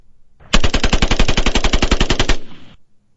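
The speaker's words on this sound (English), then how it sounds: "So here's the same gun firing the same amount of bullets with a bump stock." An AR-15 rifle fitted with a bump stock fires a rapid, loud burst of about nineteen closely spaced shots in roughly two seconds, ending in a short echoing tail.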